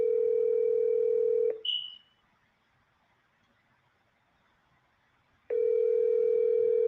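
A phone call rings out unanswered: a steady two-part tone plays, breaks off into near silence with a brief chirp, then the same tone returns loudly after about four seconds, with no voices.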